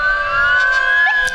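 A fire engine siren wails steadily and loudly at close range during a Memorial Day parade, its tone holding with a slight rise.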